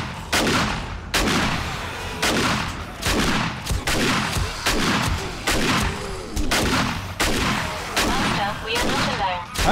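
Repeated shotgun blasts in the 7 Days to Die zombie survival game, loud and close, firing in a steady rhythm roughly every second with booming tails, with a voice speaking briefly between some shots.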